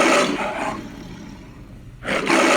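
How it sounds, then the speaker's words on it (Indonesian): A lion roars very loudly and up close in a fable, with two long, powerful bursts separated by a quieter growl-like lull. "singa mengaum sangat keras"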